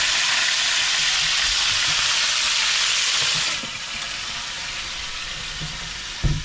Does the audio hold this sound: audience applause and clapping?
no